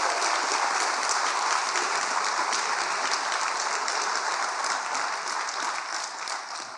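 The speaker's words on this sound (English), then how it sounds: "Give them a round of applause" A full round of audience applause at a live public conversation event, dense and loud with a steady roar of many hands that begins to taper toward the end.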